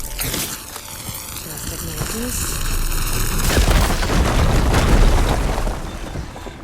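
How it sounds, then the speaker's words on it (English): A fire gleam blown up in Horizon Forbidden West: an electronic sweep gives way to a loud booming explosion that swells into a crackling, rumbling roar lasting several seconds before fading. "Should be able to blow up that fire gleam."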